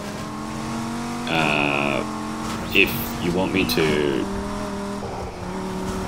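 A Dodge Viper in Need for Speed Heat holds a steady engine drone that rises and shifts pitch as it revs, with a brief tire squeal, while someone talks over it.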